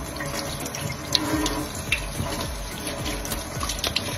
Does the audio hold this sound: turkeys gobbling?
no